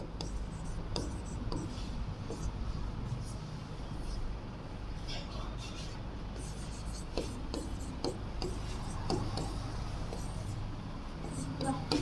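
A pen scratches steadily on paper while a Class 9 NCERT maths exercise is worked out. The rough, continuous scribbling carries on through the whole stretch under a constant background hiss.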